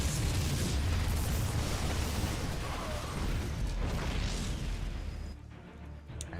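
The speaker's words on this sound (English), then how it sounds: "Nexus goes down." A Protoss Nexus is destroyed in StarCraft II, with a dense, rumbling explosion and battle noise that fade toward the end.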